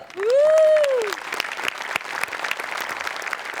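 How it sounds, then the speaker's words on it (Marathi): Studio audience applause after a stage comedy performance on a Marathi TV show. It opens with a brief rising-and-falling whistle-like tone, then settles into dense, steady clapping. "फक्त मी उभं राहून टाळ्या वाजवू शकतो"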